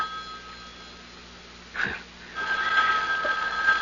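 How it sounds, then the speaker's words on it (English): In an old time radio mystery drama, a telephone bell rings with a brief sharp burst, then a longer trilling ring follows, heard clearly against a faint, hissy broadcast background. "The phone."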